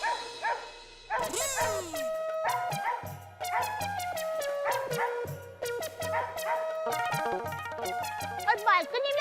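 A dog barks and yips repeatedly in an irregular run of sharp calls, close and fairly loud. Background music plays and voices are heard around the barking.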